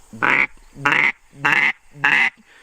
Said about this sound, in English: It almost to me sounds like a gadwall quack